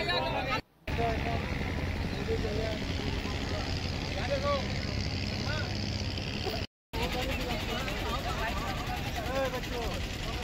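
A boat engine drones steadily beneath the upper deck on the Ganges along the Varanasi ghats, a continuous low rumble mixed with water and ambient noise, briefly cut twice.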